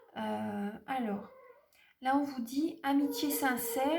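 A domestic cat meows indoors, several drawn-out cries close to the microphone that mix with and overlap a person speaking French.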